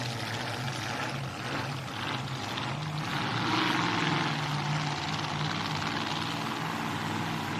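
The Milton Toyota GP1 racing powerboat engine at the St George Motorboat Club drones continuously at a distance, a broad, steady roar that swells slightly in the middle.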